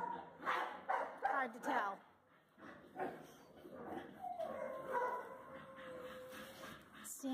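Several dogs bark and yip repeatedly at close range while a person talks over them through most of the stretch.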